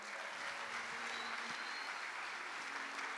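An audience at a presentation applauds continuously, a thick wash of clapping holding steady at moderate loudness throughout.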